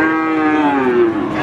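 A cow at the Pon cattle market in Central Java, Indonesia, gives one long, loud, close moo that slides slowly downward in pitch, with no talk.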